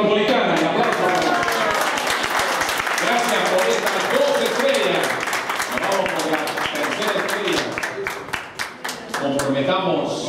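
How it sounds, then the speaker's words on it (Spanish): An audience at a school ceremony recognizing student environmental organizations in Lima applauds steadily for about ten seconds, with individual claps growing sharper toward the end under faint background voices. "Un aplauso."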